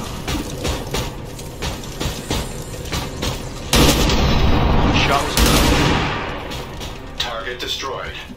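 Gunshots and heavy booming blasts from an XCOM 2 tactical battle hit in two loud bursts, with a sustained roar between them and talk layered over the action.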